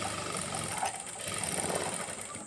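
A sewing machine hums steadily and faintly as it stitches a lined blouse with a long stitch, running with a soft mechanical whir and light rattle.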